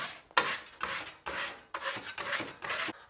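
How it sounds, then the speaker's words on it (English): A 6-inch drywall knife scrapes chunky, dried joint compound off a ceiling patch in a series of about six short, rasping strokes. The scraping is close and fairly quiet, with brief pauses between strokes and no talking. "just knock it down or scrape it off with a 6-inch knife"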